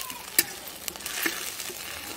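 Steady oil sizzle from a hot pan as a tempering cooks for veg manchurian, with a few light clinks and stirring sounds over the crackle.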